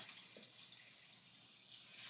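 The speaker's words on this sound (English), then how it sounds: "now I'm going to start putting in dirty water, change water" Dirty aquarium change water pours into a tank in a soft, continuous hissing splash, faint and steady throughout with a slight swell toward the end.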